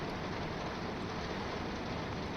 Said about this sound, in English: it's pouring down with rain